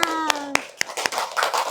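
Classroom applause from a group of children clapping hands, a brief scattered burst of claps with a voice rising over it, close and fairly loud.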